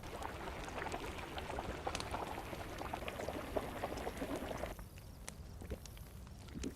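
A pot boils on a cooker in the DayZ video game, a steady bubbling churn heard close and fairly quiet, thinning slightly toward the end.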